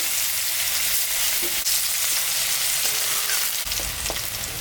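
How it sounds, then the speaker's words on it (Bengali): Onions fry in hot oil in a home kitchen, tempered with dried red chillies and cumin. A loud, continuous sizzle carries a few utensil scrapes as they are stirred. "পেঁয়াজ দিয়ে দিলাম।"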